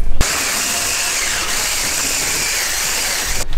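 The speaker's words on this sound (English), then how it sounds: "Now we mix it together with mixer" An electric hand mixer beats a high-protein, low-sugar fit cake batter in a bowl, giving a loud, steady whirring drone that starts abruptly, holds evenly for about three seconds, then cuts off. No voices are heard.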